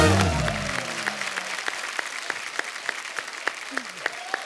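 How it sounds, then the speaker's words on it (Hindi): Studio audience applause at a comedy talk show fades from an initial burst into scattered, sharp claps repeating in a loose rhythm, with a voice briefly at the start. "जोरदार तालियां"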